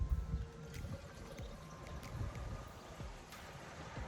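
Water gurgles and trickles as it is poured into the cooling system of a 1981 GMC Sierra, a faint, steady flow with small splashes close by and no speech.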